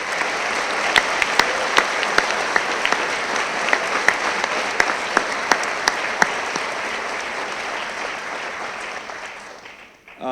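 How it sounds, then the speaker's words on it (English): Audience at a community scholarship awards ceremony applauds graduating seniors with a sustained, even wash of clapping that has sharp individual claps standing out, holding steady before fading away near the end. "One final big round of applause for all those students."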